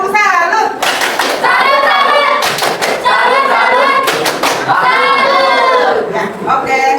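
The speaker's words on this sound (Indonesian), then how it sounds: "Tepuk salut." A classroom of children does a rhythmic salute clap, loud and close, in bursts of quick patterned claps with brief pauses and some thumps between them. Voices are faintly mixed in.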